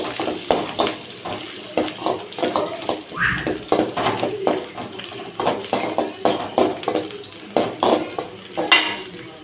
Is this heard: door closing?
no